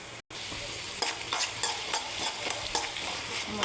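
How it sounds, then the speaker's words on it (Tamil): Ridge gourd sautés in hot oil with salt in a pan, giving a steady close sizzle broken by repeated scraping stirs of a spoon at a loose, regular rhythm. "கொஞ்சம் நேரம் எண்ணெயில் வந்து இந்த காய் வதங்கட்டும்."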